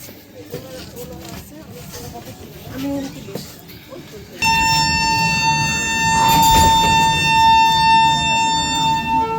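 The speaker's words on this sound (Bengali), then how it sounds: "অসাধারণ শিল হংকিং" Horn of an LHB Radhikapur Express sounding on departure from Nabadwip Dham station, a loud sustained harmonic blast that begins abruptly after rolling train noise and a voice, holding steady for several seconds.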